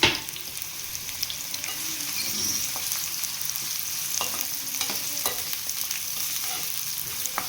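Two cut onions frying in heated oil, a steady, fairly quiet sizzle with occasional crackles and stirring scrapes, no talking.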